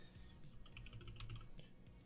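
Quick bursts of keystrokes on a mechanical keyboard with tactile switches, close and fairly soft, a run of crisp clicks and clacks tapped out alone without any talking.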